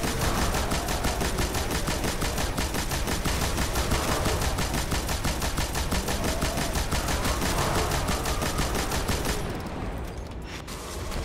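Rapid sustained machine gun fire from the Bane of Sorrow in Destiny hammers a raid boss in a dense, loud, unbroken stream of shots, then breaks off abruptly near the end, leaving a brief, quieter tail.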